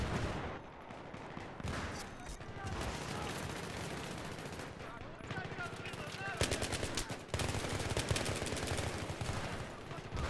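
Dense bursts of automatic gunfire from a submachine gun in Battlefield 3 multiplayer fill the scene, rapid rattling volleys layered with other shots and battlefield noise, with a player's voice speaking over them.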